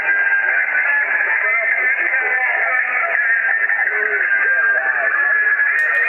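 Radio reception through a mini-whip antenna with an MFJ 1026 noise canceller switched on: steady band-limited static with faint music and voice texture audible underneath, continuous and fairly loud for the whole stretch.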